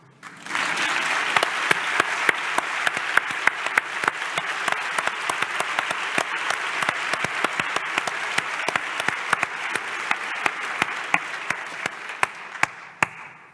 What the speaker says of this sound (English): I would ask all the women in this room to applaud the men who are here.